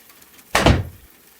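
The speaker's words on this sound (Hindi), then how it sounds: "दरवाजे की जोरदार आवाज गूंज उठी" A single loud door slam hits suddenly, a heavy booming thud that decays over about half a second into quiet, alone with no voices.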